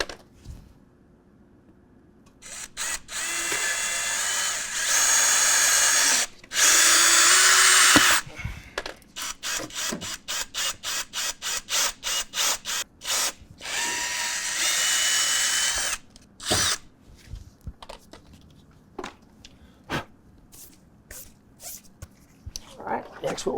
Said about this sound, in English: Make sure your fingers are clear so the drill bit doesn't go and damage yourself.